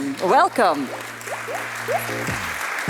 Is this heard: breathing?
no